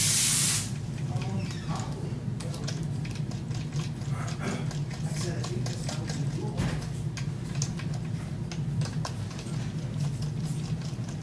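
A string winder unwinds rusty guitar strings with a fairly quiet, continuous ratcheting whirr and scattered ticks. A brief louder burst comes at the start.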